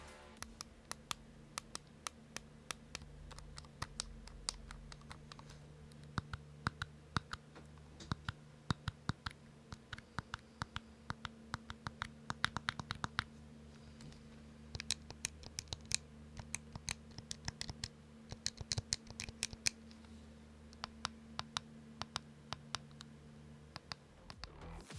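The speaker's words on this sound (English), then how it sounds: "Next, let's listen to the buttons to see how clicky they are." Buttons on an Anbernic RG Cube handheld game console click repeatedly in quick, uneven bursts, crisp and close over a faint low hum.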